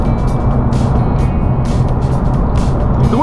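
Cabin noise inside a 2015 Seat Leon FR 2.0 TDI remapped to 201 bhp, cruising at motorway speed. Loud, steady broadband road and tyre roar with a low engine drone runs without a break, and no one speaks.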